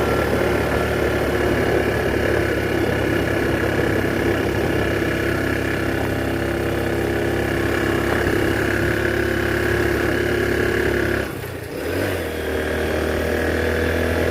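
A vehicle engine drones steadily in a single gear while climbing a hill, loud and close with a constant tone, briefly dipping near the end before carrying on.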